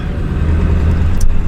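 An old Kodiak truck rolls along, a steady close engine rumble and low road drone filling the short stretch with little change in pitch.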